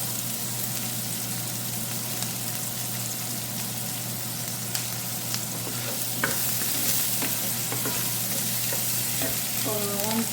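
Rice noodles fry and get stirred in a pan, giving a steady, close sizzle with ongoing scraping and tossing throughout and no talking.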